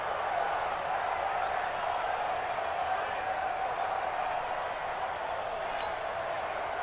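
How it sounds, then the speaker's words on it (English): A large video game stadium crowd at an American football game in Madden NFL 20 roars in a steady, continuous wash of noise, dense and unbroken, with a faint sharp squeak near the end. "Listen to this crowd now."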